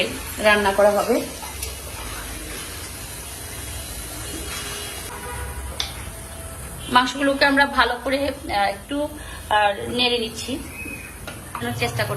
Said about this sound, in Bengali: আর গোশটা এখানে কষানো হচ্ছে